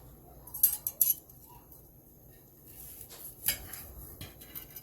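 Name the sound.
knife cutting a Ninja Foodi cooked steak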